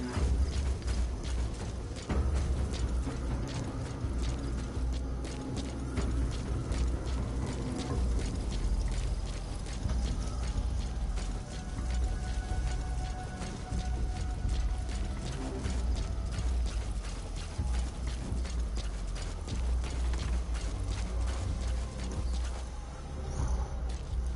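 Rapid rhythmic clip-clop of horse hooves at a steady gallop in the video game Metal Gear Solid V, continuous and mechanical-sounding, over a low background rumble.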